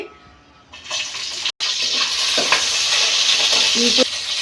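Green chillies hitting hot oil in a pan, a loud sudden sizzle that settles into steady frying with some stirring clatter.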